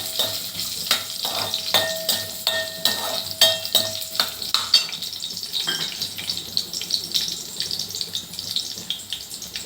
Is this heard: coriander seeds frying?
yes